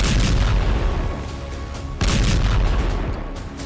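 Missile attack explosions heard in news footage of an Iranian strike, heavy booms with dense rumbling blasts, loud and close, one sharp new impact arriving midway through.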